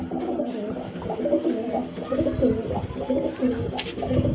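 Several pigeons of a tournament flying breed coo steadily in a low, rolling chorus, close and continuous throughout, with soft wing rustles and faint background noise.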